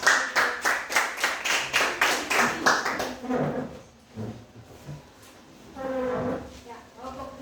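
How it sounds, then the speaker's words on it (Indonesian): An audience claps for a student group that has just presented at a university teacher-training session. Rhythmic, evenly spaced claps come first, then the clapping fades as voices and murmuring take over. "kita tepuk tangan untuk kelompok kami"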